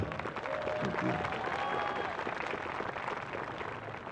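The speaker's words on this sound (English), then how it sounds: "Let's give him a big round of applause." Graduation crowd clapping for a high school principal, a dense, close burst of applause mixed with cheering and crowd murmur throughout the few seconds.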